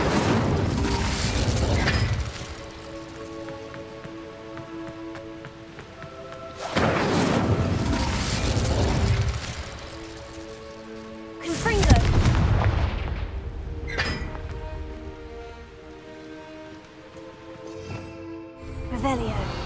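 Incendio fire spells are cast repeatedly in Hogwarts Legacy during the Isidora Morganach quest, three heavy booming bursts spaced several seconds apart over sustained musical tones and game ambience.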